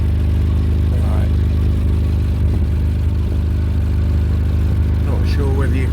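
A Suzuki Carry engine idles with a steady, rough low rumble and a constant airy hiss like a leaking exhaust, loud and close, with brief faint voices.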